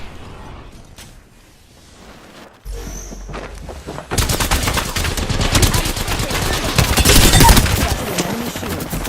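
Heavy gunfire in the battle royale game Apex Legends, a dense, loud barrage of rapid shots and bursts that swells after a quieter start, with a brief voice heard early on.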